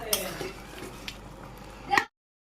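Fish head muri ghonto being stirred in a pot, a soft continuous scraping and sizzle with a few metallic clinks of a spoon against the pot, ending in a louder clatter before the sound cuts off.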